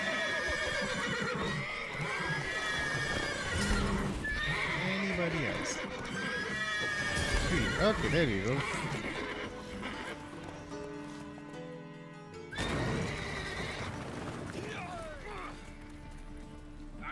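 Horses in The Witcher 3 whinny and neigh repeatedly, with clip-clopping hooves mixed in, under game music and a player talking over them.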